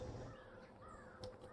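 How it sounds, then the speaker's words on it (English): Crows caw faintly and far off in woods near a condominium, under a steady wash of outdoor background noise. "So you can hear the birds in the background, crows in this case."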